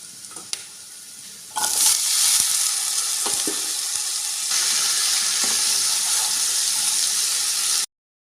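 Pumpkin greens hitting a pan of browned garlic burst into a loud, steady sizzle that holds evenly for several seconds, with occasional stirring clicks and no talking.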